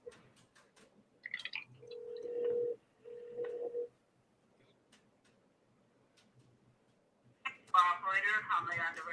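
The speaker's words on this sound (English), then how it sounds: "Okay, I hope it's dialing. Here we go. Ringing," Electronic dialing tones and two long ringing beeps in a quiet room, followed by a voice starting to speak on the line.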